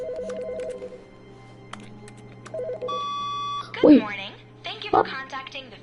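A telephone rings in the video game The Stanley Parable, a steady electronic tone that repeats a few times over a low background hum before a voice starts talking.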